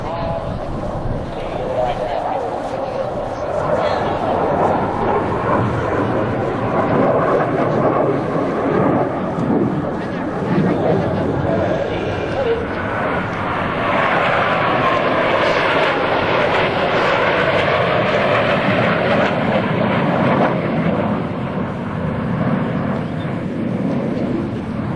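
Blue Angels US Navy jets in a diamond formation aileron roll at the 2003 New York International Airshow, a steady, loud broadband engine roar that swells and sweeps in pitch as the formation passes, sustained throughout.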